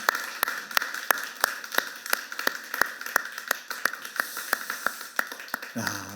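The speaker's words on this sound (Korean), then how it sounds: "전능하신 우리 하나님께 박수로 우리 영광을 돌리겠습니다." A Sunday church congregation claps together in a steady, even rhythm of roughly three sharp claps per second, fairly close, with a low voice coming in at the very end.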